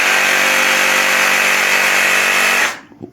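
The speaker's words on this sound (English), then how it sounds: "So what I got here, it's called a Sawzall, and that's because it saws all." A Sawzall reciprocating saw cuts through a guitar body with a loud, steady, close buzzing roar, then cuts off abruptly, leaving a few faint handling knocks.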